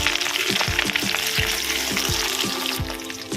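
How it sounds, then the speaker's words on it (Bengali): Eggs sizzle steadily in a hot pan while a utensil scrapes and stirs them in repeated strokes about every half second, close up and continuous, with no voices. "ডিমগুলো হয়ে গেছে এবার একটু নেড়ে ফেলে দেবো"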